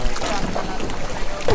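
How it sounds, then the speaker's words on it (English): A rowboat paddle dips into the water inside a cave at Tam Coc, Vietnam, making a brief, close sloshing splash over breezy, echoing background noise. "Look at you using the paddle."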